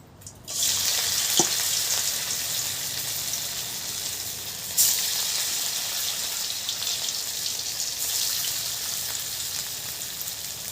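Banana flower chops dropped into hot oil, a steady close sizzle and bubbling that starts abruptly and carries on, with a second surge of frying midway.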